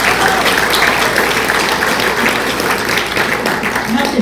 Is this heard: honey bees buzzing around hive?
no